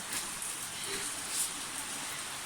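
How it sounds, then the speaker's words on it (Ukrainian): Steady, dense rain pouring down, a continuous broadband hiss with a few brighter splashes, no voices. "Такий дощ, що дивіться, на площадку забиває"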